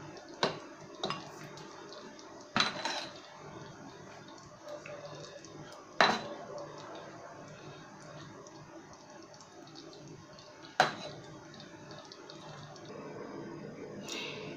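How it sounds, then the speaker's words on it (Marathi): Rice kheer is served from a pot into a bowl: a ladle scrapes and knocks on metal in a few sharp, scattered clinks over quiet kitchen background. "मी बाउलमध्ये काढून घेते आहे."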